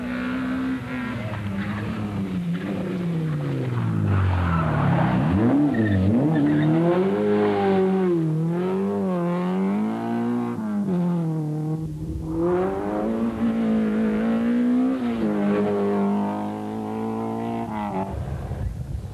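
Volvo and Opel rally cars race through the 1988 Haspengouw Rally, engines loud and close throughout, rising and falling in pitch as they rev, shift and accelerate, with a brief dip in the middle.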